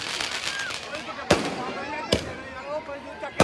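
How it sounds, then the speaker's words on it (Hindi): At a Ravana effigy burning during a crowded Dussehra celebration in Una, firecrackers go off with sharp loud bangs, two big cracks standing out over continuous crackling and crowd noise, while an announcer talks over the scene. "बहुत ही सुंदर, बहुत ही सुरक्षित पटाखे चल रहे हैं"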